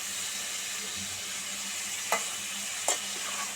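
Beef mixed with spices sizzles quietly in a pan under a steady hiss, with two brief scrapes of the spoon as it is stirred.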